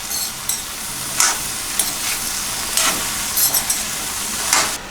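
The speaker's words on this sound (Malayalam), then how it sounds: "നന്നായി മിക്സ് ചെയ്ത ശേഷം നമുക്കിത് അടച്ചു വെച്ച് ഒരു 10 മിനിറ്റ് വേവിക്കാം." Okra stir fry being tossed in a pan, an even frying hiss punctuated by repeated irregular scrapes and clinks of a spoon, close and alone.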